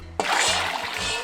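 Water splashes into a pot with washed small potatoes after a brief quiet start, settling into a continuous loud pouring rush with sloshing.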